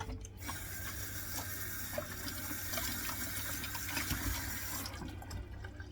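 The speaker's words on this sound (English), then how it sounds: "And yes, I do wash my hands a lot." Tap water runs steadily into a sink while hands are washed during bread baking, a continuous close splashing wash with faint clinks and no talking, ending abruptly near the end.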